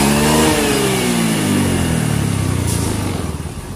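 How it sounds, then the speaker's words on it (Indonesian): A Honda Beat FI motorcycle engine after repair, with the exhaust no longer smoking, revs up loudly at close range, then settles back down smoothly over several seconds. No one speaks. "Knalpot sudah tidak berasap lagi dan bunyi mesin pun sudah sangat halus seperti ini"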